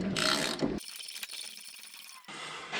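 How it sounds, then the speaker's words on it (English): Ratchet clicking as it turns over a stuck engine on an abandoned 1970 Ford F250, a close mechanical rattle that cuts between bursts with a quieter ticking stretch in the middle. "it'll just freewheel over when we let off the ratchet even"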